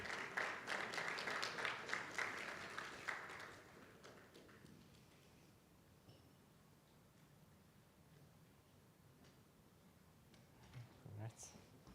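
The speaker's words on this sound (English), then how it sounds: "Can I have a big round of applause, please?" A conference audience at a panel event claps loudly for a few seconds, then the applause fades away, leaving quiet room noise and a few faint thumps.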